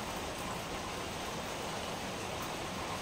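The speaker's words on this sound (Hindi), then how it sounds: "तो आज तो बहुत बारिश हो रहा बहुत बारिश हो रहा बा" Heavy rain falls in a dense, steady hiss with no breaks, moderately loud and even throughout, with no voices heard.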